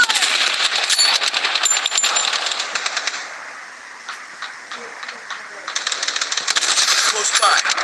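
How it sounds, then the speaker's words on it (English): Rapid video game gunfire, dense rattling bursts of automatic shots that ease off briefly in the middle and then return loud, with voices talking under the shooting. "Enemy spotted. Taking fire."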